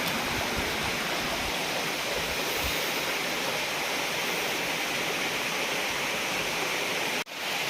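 A hidden waterfall in a Dhenkanal forest, Odisha, pours with a steady, dense rushing roar that stays constant throughout, close and unbroken, with no voices.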